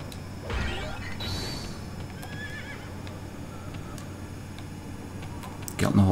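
Horse whinnying and hooves clopping in the video game Dynasty Warriors 3, a short neigh near the start followed by scattered hoof clatter and clicks over steady background game noise, with a sharp crash at the end.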